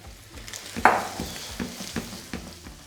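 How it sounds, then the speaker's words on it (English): Chopped shallots and spring onion tossed into a hot pan alongside halibut: a sharp clatter, then sizzling with soft rhythmic stirring and scraping knocks repeating every half second or so, close and moderate in level. "I'm just going to go in with some shallots and some finely chopped spring onion. Just to toss that in the pan"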